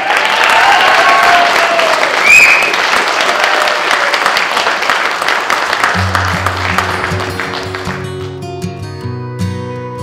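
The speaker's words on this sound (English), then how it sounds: "Let's get another round of applause." Loud, sustained applause from a large wedding crowd, steady and dense, with music starting to come in toward the end.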